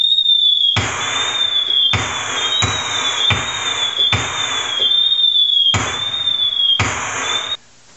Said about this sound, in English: and there were fireworks.